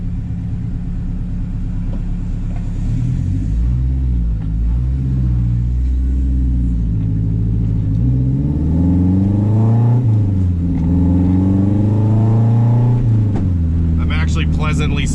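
A 500 HP turbocharged K24-engined car accelerates on a street, its loud engine rising and falling in pitch through gear changes, droning close throughout.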